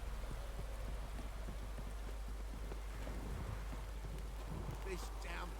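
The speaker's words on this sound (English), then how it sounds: "This downpour's a bastard in it." Steady heavy rain pours down in The Witcher 3 game world, a dense continuous hiss with a distant rumble beneath and faint speech mixed in.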